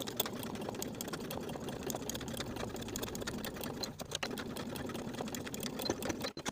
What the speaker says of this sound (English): Now we'll sew the pocket flap in place with a 1/4 inch seam allowance